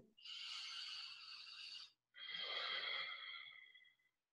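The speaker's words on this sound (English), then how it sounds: "you could almost say it's like an ocean breath, right? It sounds like you're sitting at the ocean." Nasal yoga ocean breathing, ujjayi style: two long, steady hissing breaths through the nose, close and fairly soft, separated by a brief pause, with no talking.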